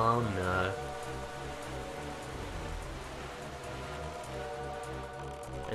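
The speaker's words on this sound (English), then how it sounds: "And now it is spontaneously getting rainy." Rain sets in within The Wind Waker HD, a steady patter of raindrops on surfaces beneath a layer of game music, even and continuous throughout with no talking over it.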